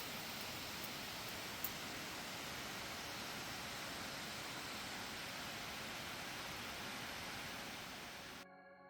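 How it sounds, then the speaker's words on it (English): Small waterfall spilling below a little dam near Lake Placid, New York, a constant broad rushing roar of falling water, steady and fairly loud, cutting off abruptly at the very end. "Here's a little dam with a beautiful little waterfall below it"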